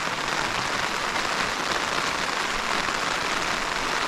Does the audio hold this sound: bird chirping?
no